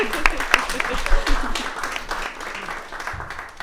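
An audience at a live Skewb cubing show applauds as guests leave their seats, with loud, dense clapping that peaks early and tapers off while voices murmur underneath.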